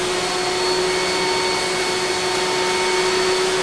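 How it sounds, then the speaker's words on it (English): A small carpet rinsing extraction machine runs steadily and loud, a constant motor whine with a strong tonal hum and broadband airflow roar throughout, no talk. "you can grab this little machine and just take off, and it will do the rinsing much better"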